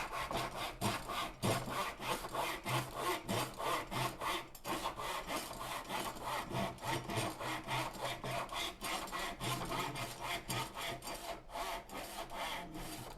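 A hand miter saw cuts through wood in a workshop, giving a loud, steady back-and-forth rasp of repeated strokes, each pull and push clearly separated, with no talking.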